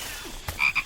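Frog croaks sound in a Samsung Galaxy S24 Ultra phone advertisement, with two or three short, close, rasping calls in the second half after a brief soft rustle.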